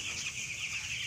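Young chickens on a farm cluck and cheep softly while pecking at grain, a faint continuous chatter of small birds heard close by.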